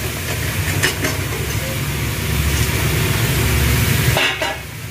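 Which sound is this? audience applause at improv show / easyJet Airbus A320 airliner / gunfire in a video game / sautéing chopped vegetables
sautéing chopped vegetables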